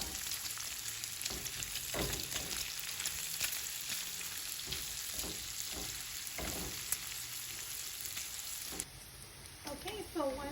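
Onion, garlic and jalapeños fry in a pan of crispy bacon for lentil soup, giving a steady close sizzle with occasional stirring scrapes that runs for about nine seconds before a louder, brighter hiss takes over at the end.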